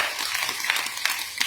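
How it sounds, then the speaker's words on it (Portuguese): A temple congregation in Vrindavan, India, breaks into dense, continuous applause, a steady wash of many hands clapping with a few sharper claps poking through. "Aplausos também"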